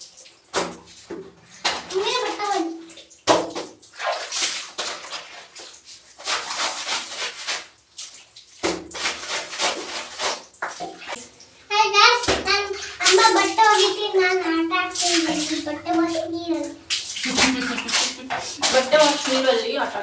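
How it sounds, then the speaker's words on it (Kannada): A child plays and splashes in water in a bathroom while clothes are washed, with sloshing, slapping and dripping sounds mixed with frequent children's voices and chatter. "ಬಟ್ಟೆ ವಾಶ್ ನೀರಲ್ಲಿ ಆಟ ಆಡ್ತೀನಿ."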